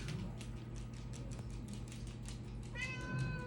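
A pet cat lets out a short meow near the end, close and clear over steady background hum and faint ticking.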